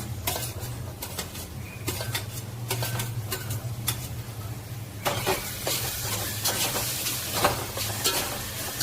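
In a pan, chopped tomatoes sauté over onion browned to golden, giving a quiet continuous sizzle punctuated by clicks and scrapes of a stirring utensil, louder and denser in the second half.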